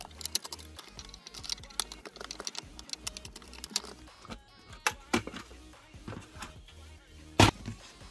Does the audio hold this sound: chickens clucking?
no